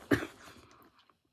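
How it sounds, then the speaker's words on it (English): A single short cough close to the microphone, sharp onset followed by a brief breathy trailing off, fairly quiet overall. "I just coughed"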